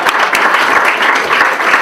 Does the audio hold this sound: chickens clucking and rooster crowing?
no